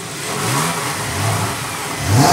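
A dual-clutch car engine revs loudly and close up as it accelerates, with a steady strong roar that climbs toward the end, and no voices over it.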